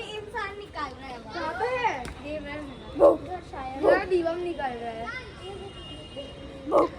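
A dog barks a few times in sharp, separate bursts while children chatter and shout nearby.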